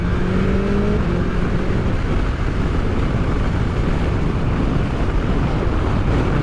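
A BMW S1000XR motorcycle on the road, 161 horsepower in road mode, is masked by constant heavy wind roar that buries the engine, with only faint rising engine tones early on.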